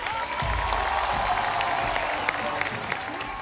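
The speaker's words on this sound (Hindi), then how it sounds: "जोरदार तालियां" A studio audience on The Kapil Sharma Show, a television comedy show, breaks into loud, sustained applause with some crowd noise, a dense wash of clapping filling the whole stretch.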